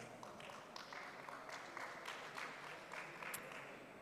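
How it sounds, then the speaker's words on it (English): Steady crowd applause at the ETHDubai 2023 conference, a dense wash of many hands clapping at a moderate distance, sustained for several seconds without a break. "give him a round of applause"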